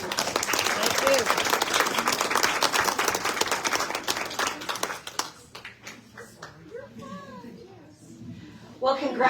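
Crowd applauding Girl Scout award recipients at a recognition ceremony, a loud sustained burst of clapping that thins out midway, leaving a quieter room with voices.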